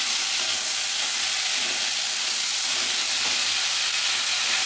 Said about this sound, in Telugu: ఇప్పుడైతే నేను ఒకసారి కలుపుతున్నాను. ఇవైతే జస్ట్ ఫ్రై చేస్తున్నాము.